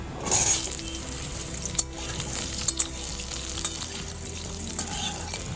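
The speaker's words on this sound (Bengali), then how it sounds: "এই আলুটাও আগে ভেজে নেব" Two medium potatoes cut into cubes fry in a pan of hot oil with a steady bright sizzle, punctuated by a few sharp clinks of stirring against the pan.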